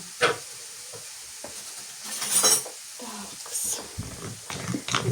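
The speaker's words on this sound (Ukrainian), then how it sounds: "вистукую із нього тісто і продовжу замішувати ложкою" A spoon scrapes and knocks against a bowl in uneven strokes, mixing thin pancake batter, with soft wet stirring sounds and a few sharper clinks between pauses.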